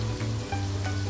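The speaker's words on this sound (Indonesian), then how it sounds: "Lalu aduk semuanya hingga merata." Water spinach and shrimp are stir-fried in a wok, giving a continuous loud sizzle with faint scraping of the stirring utensil and no voices.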